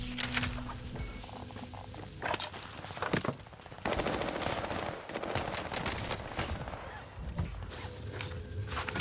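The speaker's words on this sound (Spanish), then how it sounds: "Le están disparando de aquí abajo." Gunfire in Call of Duty Warzone: dense, continuous rattling bursts of automatic weapons with sharp individual shots, loud and sustained, layered over game ambience.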